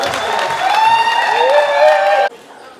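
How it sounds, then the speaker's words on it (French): An audience at an association's tenth anniversary celebration applauds loudly and continuously, with tonal sound, likely music or voices, running through it, before the clapping cuts off sharply, leaving a quieter background. "On applaudit encore"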